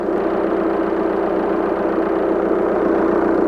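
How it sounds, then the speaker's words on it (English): A cold turbocharged engine idles steadily under test, a loud, even mid-to-low rumble with a constant rhythmic pulse and no voices. "So I've got this engine running and ready."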